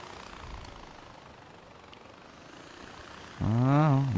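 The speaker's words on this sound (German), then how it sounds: "Und so startet die den Heli." Gyrocopter engine in the video game Far Cry 4 starting up, quiet background at first, then a loud whirring drone that kicks in abruptly and rises in pitch near the end.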